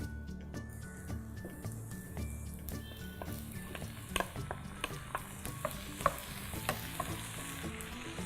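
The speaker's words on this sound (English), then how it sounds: "mix it all together. Let it fry together." Vegetables and tomato tadka frying in a pan for a shepherd's pie, a steady close sizzle punctuated by repeated clicks and scrapes of a spoon stirring against the pan, no talking.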